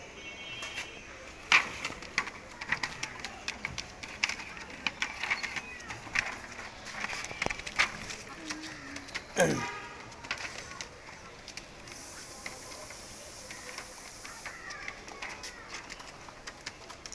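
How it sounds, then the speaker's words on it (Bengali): Pigeons cooing faintly in the background after a male Girbaz pigeon is let go, with scattered clicks and brief rustling bursts, one sharper clatter midway, and no voice. "এই কবুতরটা ছেড়ে দেখাচ্ছি।"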